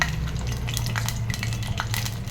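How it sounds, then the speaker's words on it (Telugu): Dried red chilli, green chilli and garlic frying in hot oil for a gongura dal tempering, giving a close, continuous sizzle with quick stirring scrapes across the pan. "ఒక ఎండుమిర్చి ఒక పచ్చిమిర్చి అలానే వెల్లుల్లిపాయలు వేసుకోవాలండి"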